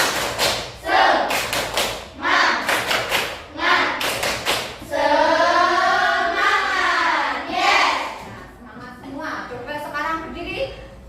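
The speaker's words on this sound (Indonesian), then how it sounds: "Tepuk semangat." A class of students performing the 'tepuk semangat' rhythmic clapping chant: sharp, loud claps in quick patterned bursts mixed with children's chanting voices, ending in sustained shouted syllables.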